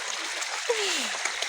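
Rainwater runs across a flooded main road in steady, close flowing wash and splashing, with a brief faint voice-like tone partway through.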